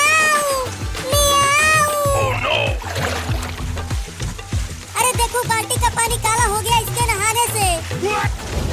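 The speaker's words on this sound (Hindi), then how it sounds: "मियाऊ, मियाऊ, मियाऊ, मियाऊ, मियाऊ, मियाऊ।" A cartoon cat meows repeatedly in rising, wailing cries over a busy soundtrack of music and splashing water, the meows loud and close in two bursts.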